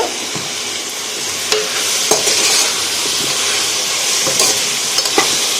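Vegetables and turmeric fry in a little oil for khichuri, a bright close sizzle with repeated scraping stirs and light clinks of a utensil against the pan.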